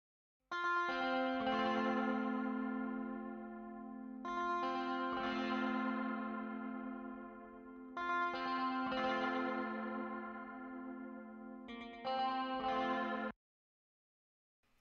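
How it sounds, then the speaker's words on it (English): Electric guitars soaked in chorus and distortion play sustained chords in four repeating phrases, with nothing else underneath, then stop into silence. "And we have some guitars here."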